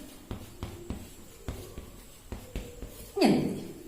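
Pen or chalk writing an algebraic expression by hand for a tenth-standard arithmetic sequences lesson: a series of distinct tapping strokes at irregular intervals, ending in a louder rubbing sweep, with no talk.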